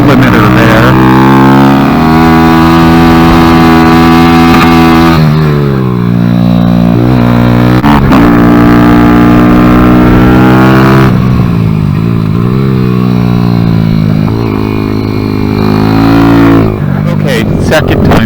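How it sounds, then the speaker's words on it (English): Kawasaki Z125 with a Factory Pro shift kit, its engine loud and close, held buzzing at the rev limiter with rising and falling pitch sweeps throughout. "I'm in the rev limiter there."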